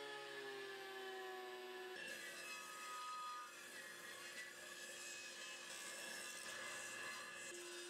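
Table saw with a crosscut sled trims solid walnut bed legs to length: a steady whining blade hum, then the pitch drops as the cut begins and a rough rasping tone sustains throughout, close and quiet overall, no talking.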